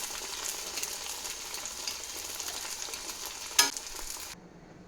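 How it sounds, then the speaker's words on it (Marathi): Potatoes deep frying in hot oil as oil is spooned over them with a skimmer, a dense continuous bubbling sizzle with one sharp metallic scrape near the end before the sound cuts off abruptly. "हे फ्राय करताना ना वरनं असं तेल टाकायचं झाऱ्याने"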